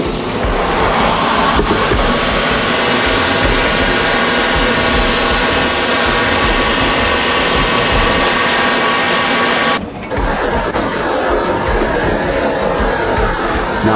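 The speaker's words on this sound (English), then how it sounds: "So this is the coarse grind over here." A grinding machine does the coarse grinding on a crystal baptismal font with a loud, continuous abrasive roar. The sound dips briefly partway through and then carries on at the same level.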